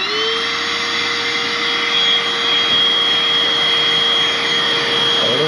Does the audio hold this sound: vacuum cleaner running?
yes